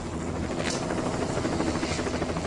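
A helicopter working near high-voltage power lines, its rotor producing a steady rhythmic low thudding chop that is sustained and moderately loud across the short stretch, with no talking.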